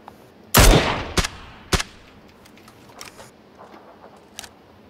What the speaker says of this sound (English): there are people shooting up there. Two teams fighting.